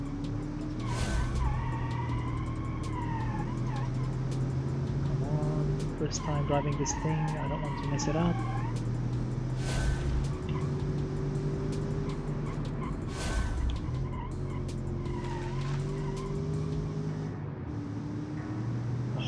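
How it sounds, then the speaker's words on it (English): Engine of a 1990 all-wheel-drive super sedan with a V8 runs steadily and loud up close, rising and holding revs, with tires squealing now and then and someone talking over it. "the V8 noise is just magnificent"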